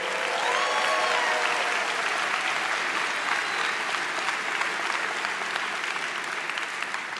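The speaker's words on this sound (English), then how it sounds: "Give a round of applause for yourselves out there." Graduates and guests applaud at a 2024 St. Thomas commencement ceremony, a dense, steady wash of clapping filling a large space, with a few faint whistles near the start.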